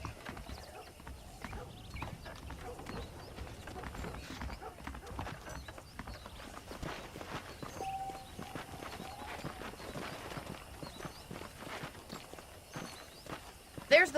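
Horse hooves clip-clop at a steady walking rhythm in the video game Red Dead Redemption, continuous and moderately close, with some talk over them.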